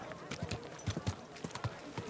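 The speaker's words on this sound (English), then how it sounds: "Easy, good horse." Horse hooves clip-clop on the ground in a medieval video game, a quick uneven run of distinct close thuds, roughly a dozen strikes in two seconds.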